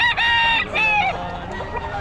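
A Hatch Gray McLean gamecock rooster crows loud and close, with a harmonic, drawn-out call followed by a second, softer crow phrase.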